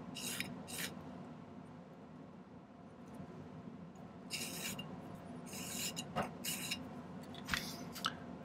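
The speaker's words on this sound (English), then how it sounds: "Let's file everything flat." A hand file scrapes across a silver ring in a silversmith's workshop, making faint, intermittent raspy strokes in short groups over a low steady room hum, with no voices.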